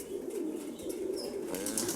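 A pigeon, a yellow dove among a flock of homing birds, takes off with soft flapping wings amid low cooing and ambient outdoor noise, fairly close and moderate in level.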